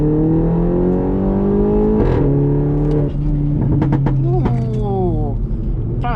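Interior of a 2018 Mini Cooper S accelerating hard, engine note climbing in pitch through the gears with brief dips at shifts, close and steady; a voice speaks over it.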